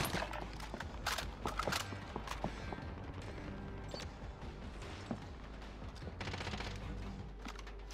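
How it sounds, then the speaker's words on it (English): Gunfire in a multiplayer shooter video game: bursts and single cracks of shots, some near and some distant, scattered over a busy, noisy battlefield background with no talking. "they're shooting me"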